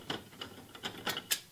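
A series of small, sharp mechanical clicks as a tilt rod staple is pushed back into a shutter, about six quiet snaps spaced irregularly with no talk.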